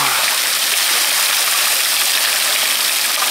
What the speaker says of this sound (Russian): За нами море.